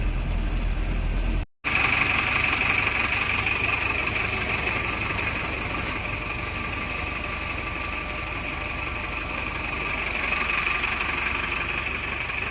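A tipper truck's diesel engine runs at a steady, rumbling idle with a faint knocking texture, continuous apart from one brief dropout near the start.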